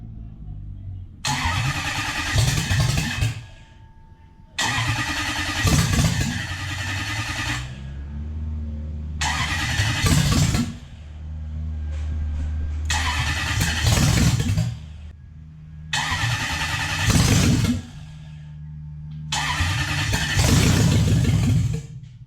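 A Lexus/Toyota 1UZ-FE V8 with an induced sensor fault cranks and fires repeatedly, six separate start attempts of whirring starter and brief loud engine bursts, each dropping back to quiet.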